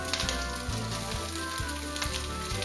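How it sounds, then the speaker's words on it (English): Lardons sizzle and crackle in olive oil in a large pan, a dense, close frying hiss with scattered pops and a few low clunks, continuous throughout. "Hear that sizzle."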